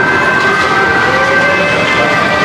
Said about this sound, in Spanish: escuchan esta sirena.